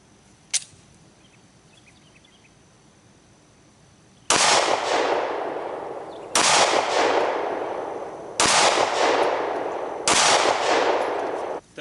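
A Glock 9mm pistol firing Magtech FMJ ammunition: a small click, then four sharp, loud shots spaced about two seconds apart, each ringing out before the next, with no talk.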